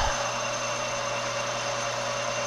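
A metal lathe with a cutting insert turns steel for a lamp shade support bracket, giving a steady, close mechanical hum with a faint whine, unchanging from start to finish and free of speech.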